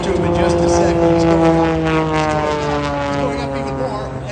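Aerobatic helicopter from the Red Bull Air Force team performing at the Miramar airshow, its loud steady rotor and engine drone holding throughout, with an announcer talking over it.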